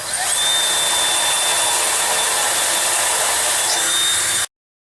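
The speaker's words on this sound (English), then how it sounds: "So just need to open these holes up to 3/16 of an inch" A power drill enlarges holes to 3/16 inch for rivets while a Jeep Wrangler JK front bumper is being fitted. It gives a steady, loud, high whine that runs unbroken for about four seconds before stopping abruptly.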